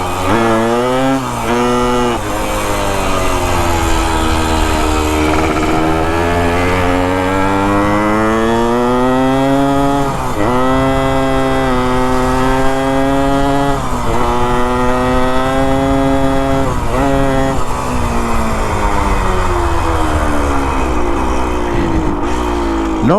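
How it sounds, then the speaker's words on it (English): A 1973 Yamaha ATMX two-stroke motorcycle engine runs loud and steady throughout, revving up and down repeatedly with a slightly slipping clutch, no voices present. "You can hear the clutch is still slipping just a little bit, but this thing flat scoots."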